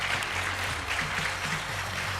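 Loud applause fills an annual company meeting hall as a winning employee is called to the stage, a dense steady wash of clapping with some low murmuring underneath.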